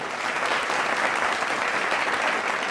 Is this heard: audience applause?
yes